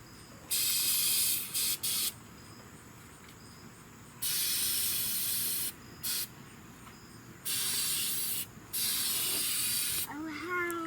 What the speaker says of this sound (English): Spray some undercoating underneath it.